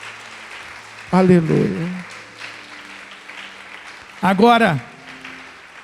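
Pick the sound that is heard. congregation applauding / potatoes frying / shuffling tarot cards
congregation applauding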